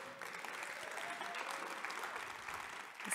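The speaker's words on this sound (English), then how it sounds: "Please give a round of applause to our panelists." Audience applause for a panel of speakers at a talk event, steady, moderately distant clapping from a crowd lasting about three seconds before trailing off.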